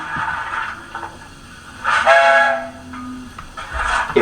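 A DCC sound-fitted OO gauge Rapido S160 model steam locomotive gives a short whistle blast in the middle of the clip, set among softer intermittent hissing and mechanical sounds.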